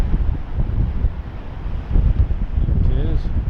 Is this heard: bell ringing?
no